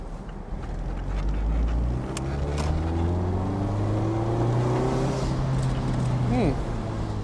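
Mazda MX5 ND sports car engine revving hard along a Black Forest mountain road, a steady loud drone with rising harmonics climbing through the gears, close and continuous with brief talk over it.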